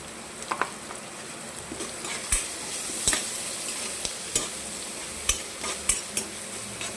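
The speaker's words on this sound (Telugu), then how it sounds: "ఫ్రై అవుతాయి, బాగా ఎర్రగా వస్తుంది. ఆనియన్స్ త్వరగా వేగుతాయి." Onions fry in a pan with salt and turmeric for egg bhurji. A steady close sizzle runs throughout, broken by scattered sharp spatula scrapes and clinks against the pan, with no voices.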